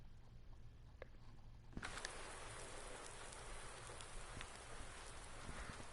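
Steady rain pours in Farming Simulator 19 on PS4 with the Seasons mod, a dense hiss that starts abruptly after a quieter opening and continues evenly throughout.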